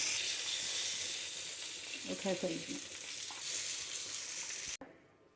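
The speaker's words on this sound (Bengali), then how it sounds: "মাছ ভাজতে হবে চুলাটা বাড়িয়ে। মাছ ভাজা হয়ে গেছে" Fish fries in oil, sizzling and hissing steadily and loudly, with a brief faint voice partway through, before the sound suddenly drops away.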